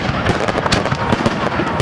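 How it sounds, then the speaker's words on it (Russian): A grand fireworks salute bursts during a Victory Day celebration in Desnogorsk, with rapid, crackling explosions popping in quick succession, loud and close. "А кульминацией праздника Великой Победы стал грандиозный салют"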